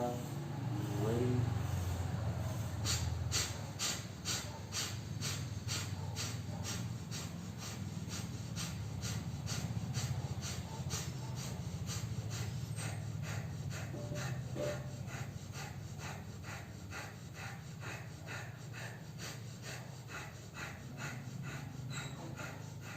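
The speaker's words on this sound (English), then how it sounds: "For our last round of breath fire, ready." During a yoga class, rapid breath of fire breathing sets up a steady run of quick rhythmic exhalations that carries on for the whole stretch over a low background hum, with no words spoken.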